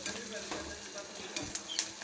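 Onions sizzle and crackle steadily in hot sesame oil, with scattered sharp clicks and scrapes of stirring close by.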